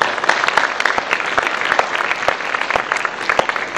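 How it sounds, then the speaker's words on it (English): Audience applause at a university honors college faculty lecture, a dense steady clapping from a crowd that holds for several seconds without voices. "Please give Alex a round of applause"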